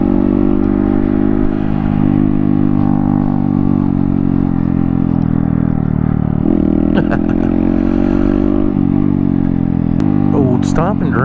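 A road vehicle's engine and exhaust drone loud and steady while driving through a city at sunset, a constant low rumble with slight shifts in pitch and a brief clatter near the end.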